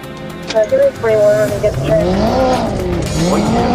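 A Corvette spins a full 360 during a police chase, its tires squealing in long wavering tones over engine noise, loud and close, with a voice talking over it.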